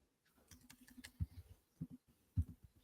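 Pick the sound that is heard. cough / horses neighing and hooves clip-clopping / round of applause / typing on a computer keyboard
typing on a computer keyboard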